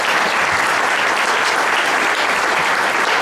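An outdoor crowd at a concert band show in Fort Hunt Park gives thick, continuous applause, loud and unbroken for the whole stretch.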